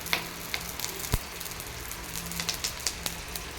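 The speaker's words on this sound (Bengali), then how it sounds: "এখন যে ইলিশ মাছটা দেখিয়েছিলাম সেই ইলিশ মাছটা আমি ভাজা বসিয়ে দেবো।" Hilsa fish frying in hot oil gives a steady, moderately quiet sizzle broken by scattered sharp pops and crackles; there is no talking.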